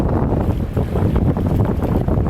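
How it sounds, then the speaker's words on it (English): A powerful waterfall on a Quetico canoe trip roars as a steady, dense low rumble, close and continuous throughout with no voices over it. "really neat, just powerful waterfall"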